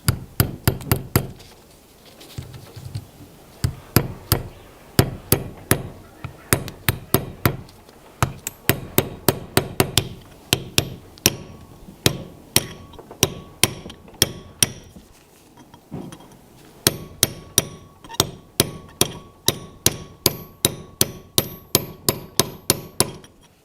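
A pin being hammered back into a 4x4 differential lock: sharp metallic hammer strikes in quick, even runs separated by short pauses, loud and close, with a ringing clang on each blow.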